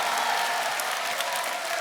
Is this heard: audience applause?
yes